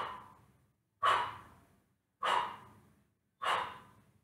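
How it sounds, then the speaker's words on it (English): Forceful bursts of breath pushed out through the mouth in kapalabhati yoga breathing: four sharp exhalations at a steady, roughly one-second rhythm, close and distinct, each fading quickly. "exhaling through the mouth, simultaneously pull the navel in towards the spine"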